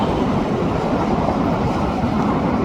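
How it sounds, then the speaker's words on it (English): An eastbound freight train about to leave gives off a continuous, fairly loud rumbling drone that stays level throughout, with no talking. "Eastbound shop train is just ready about to leave out of here."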